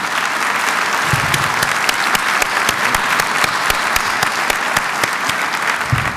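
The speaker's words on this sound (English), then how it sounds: "Let's give them another round of applause." Applause at a university State of the University address, a full, continuous round of clapping from a large audience, with distinct sharp claps standing out near the front throughout.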